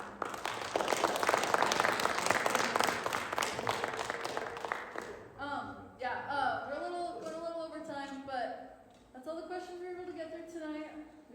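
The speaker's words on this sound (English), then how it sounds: "can we give a round of applause to our panelists?" An audience at a youth Q&A panel night gives a round of applause for the panelists, dense clapping for about five seconds before it stops and a person begins speaking.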